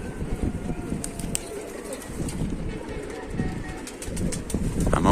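Pigeons coo steadily in a loft, a dense layer of overlapping low calls throughout, with occasional wing flutters and faint background voices.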